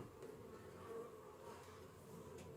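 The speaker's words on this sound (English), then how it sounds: "Some of these bees are getting a little antsy with me." Agitated honey bees buzz around an open hive, a steady, dense hum of many wings with no talk over it.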